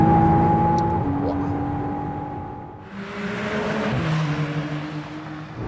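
A McLaren Artura hybrid sports car accelerates hard on the road at full load, its engine note climbing in steady tones with gear changes, heard from the cabin over a faint background hum.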